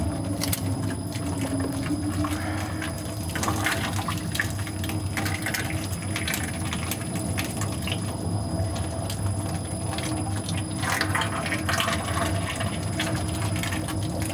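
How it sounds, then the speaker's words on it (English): Logichem viscosity modifier being poured slowly into liquid in an Inox Instantiser trial, giving a steady, close, continuous patter and splash with faint metallic ringing behind it. "Pouring the product out. Trying to do it slowly"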